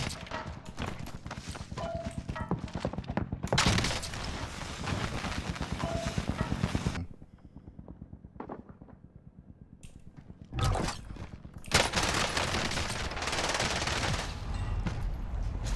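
Video game gunfire, including shotgun and crossbow weapons, comes in loud rapid bursts separated by short quiet gaps, with the later volleys heavier, and no talking over it.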